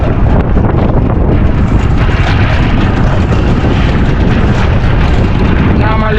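Strong wind roars steadily and loudly across the microphone on a boat fishing at sea in rough weather off Jamaica, a dense buffeting rush with no break for the whole stretch.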